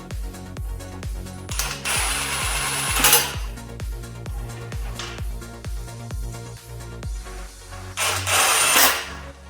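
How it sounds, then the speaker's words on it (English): Bolts being driven back into a 420cc small engine after governor removal, heard as a quick string of sharp ratcheting or powered-driver bursts in a steady rhythm, with louder spells of whirring partway through and near the end. "Just going to put those bolts back in."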